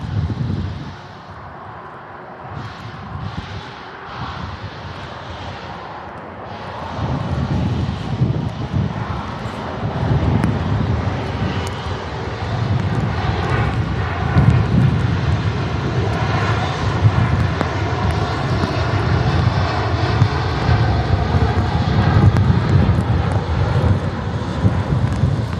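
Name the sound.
Aer Lingus Airbus A350 airliner passing in storm wind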